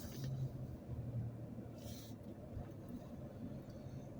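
Road traffic passes at a busy roadside, a low continuous rumble of cars with swelling engine noise from passing vehicles, moderately distant and fairly quiet.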